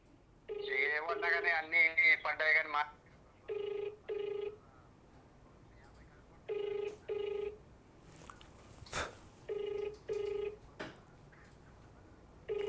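A phone rings repeatedly in short electronic bursts with gaps between them, fairly quiet, as if heard through a handset speaker, during an unanswered call to an agriculture extension officer.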